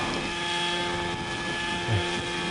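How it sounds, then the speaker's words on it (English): A computer-controlled helicopter flying aerobatic maneuvers over a football field, its rotor and engine drone continuous and steady with wind rumble on the microphone. "is one of the most difficult aerobatic maneuvers flown on any helicopter under computer control"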